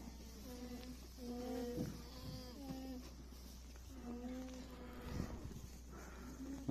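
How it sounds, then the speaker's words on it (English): Goats and alpacas on a farm in Colorado: several bleating and humming animal calls rise and fall over a steady low rumble, moderately near, with faint talk mixed in. "Little goat friends."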